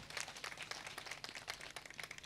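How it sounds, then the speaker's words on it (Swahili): Audience applause for a mother at a public gathering, dense crowd clapping throughout, steady and moderately distant with no talk. "Hebu mpigieni makofi mama kwa ujasiri"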